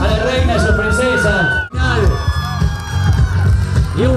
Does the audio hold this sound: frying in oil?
no